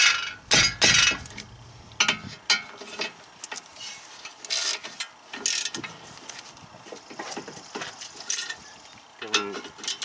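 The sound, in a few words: tightening bolts on BMW E36 front brakes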